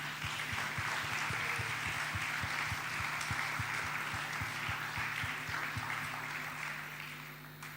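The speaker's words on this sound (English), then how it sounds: "I want you to join me in a round of applause to thank the panel" Steady audience applause at the World of Work Showcase 2019, thanking a panel, with a continuous wash of clapping that holds level and begins to fade near the end, accompanied by a regular low pulsing beat.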